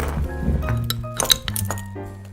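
Beer glass clinking while a Belgian pale ale, Petrus Aged Pale, is served into a favorite Dragon glass; several bright clinks and taps over about two seconds, close and moderately loud, with light handling noise around them.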